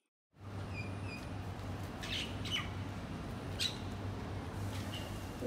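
Javan mynas squawk and call near a temple car park in Singapore, a few harsh, scratchy calls scattered over a steady low hum of background noise.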